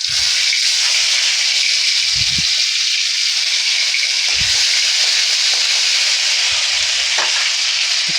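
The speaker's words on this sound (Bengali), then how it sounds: "তেলটা গরম হয়ে গেলে একটু 5 ফোড়ন দিয়ে দিলাম।" Panch phoron and ginger paste sizzle in hot oil with a steady, bright hiss, broken by a few soft low knocks of a spoon in the pan.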